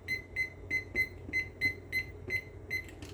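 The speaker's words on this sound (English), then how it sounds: "what I'm going to do now is I'm going to set myself a timer" A kitchen timer beeps as it is set while making homemade pudding: nine short, evenly spaced high electronic beeps, clear and close, with no talking.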